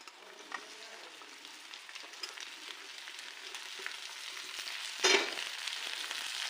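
Chopped okra sizzles in a pan with garlic and chilli, a soft, steady frying hiss that swells into a brief louder crackle near the end.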